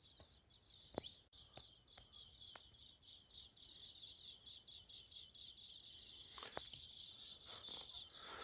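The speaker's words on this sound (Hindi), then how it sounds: "पक्षियों की चहचहाने की आवाज़ें, इतनी शांति।" Birds chirp softly in a quiet outdoor setting at Shoolpani, Maharashtra, on the Narmada Parikrama route, with a steady high insect drone throughout and scattered faint clicks and calls.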